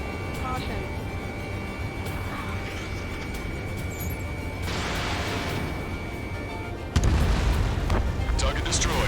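An explosion in Ace Combat 7 as a target is destroyed, heard as a rumbling, sustained boom within dense combat noise, with a sharper louder blast near the end.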